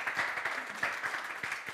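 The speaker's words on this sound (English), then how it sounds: "give Kristaps a warm applause" Applause from a summit audience, a dense patter of many hands clapping at moderate volume throughout.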